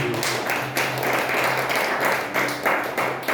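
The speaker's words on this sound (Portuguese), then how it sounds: "Podemos aplaudir Jesus por isso." A church congregation applauds in a continuous, fairly loud burst of many hands clapping, with slight swells in intensity and no clear speech over it.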